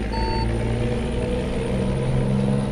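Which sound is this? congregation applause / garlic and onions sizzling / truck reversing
truck reversing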